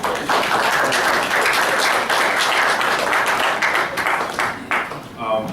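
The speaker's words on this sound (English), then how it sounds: "we can give them a round of applause" Audience applause at a Red Bank council meeting, a dense, steady wash of clapping from a room of people that holds for several seconds, then thins and tapers toward the end.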